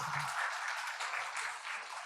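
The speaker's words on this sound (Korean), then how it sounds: "우리 박수 한번 하십시다" Congregation applause during a New Year's Eve church worship service, an even, sustained patter of many hands clapping at moderate distance with little else audible.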